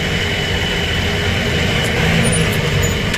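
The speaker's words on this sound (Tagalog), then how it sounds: "So parang may traffic dito." Steady road traffic rumbles along Ecoland Drive near the Ecoland terminal in the Philippines, with trucks and buses idling and passing in a continuous loud, close engine drone and a faint brake hiss.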